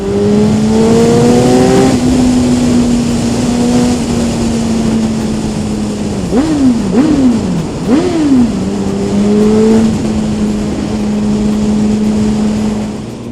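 A 2015 Suzuki GSX-R 1000 motorcycle rides on a road with a loud, continuous engine drone heard from on board, holding a steady pitch, then revving up and down sharply several times midway before settling back to cruising.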